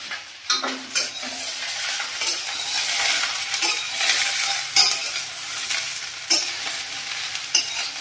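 Vegetables for a mixed sabji dish fry in hot oil with a steady loud sizzle, while a utensil stirs and scrapes the pan in irregular clinking strokes, close up and with no talking.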